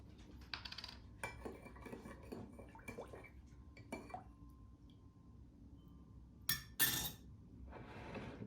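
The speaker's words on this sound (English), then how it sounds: "Pour it into a bottle." Homemade elderberry syrup poured into a glass bottle, with scattered clinks and taps of glass and utensils, a brief trickle, and a couple of sharper bright knocks near the end, close and fairly quiet.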